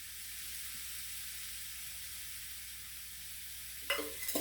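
Soya chunks, carrots and cabbage fry in a pan with a faint, steady sizzle, then a few brief scraping stirs sound near the end.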